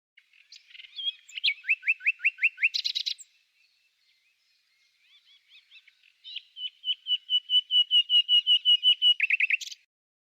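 Recorded song of a bird: two phrases of rapid, evenly spaced chirps and trills, the second longer and steadier, separated by a short pause. The song is clear and close, with no voices.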